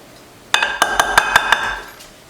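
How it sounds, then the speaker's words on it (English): A metal dough whisk stirs dough in a mixing bowl, striking the rim in about six bright, ringing clinks in quick, fairly even rhythm, close and clear with no talking. "So this dough whisk is really helpful. It really gets in there and kind of helps you stir that"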